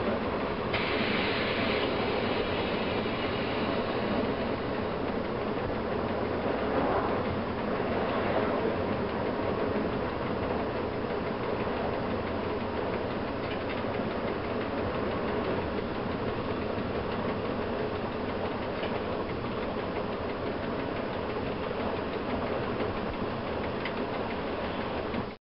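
Train braking in Train Simulator on a French route: a steady, dense mechanical rumble of engine and running gear with faint squeals and clanks, continuous at even loudness throughout, no voices.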